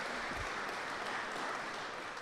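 An audience in a church applauding after a harp performance, a steady, moderately loud patter of clapping hands that lasts a couple of seconds.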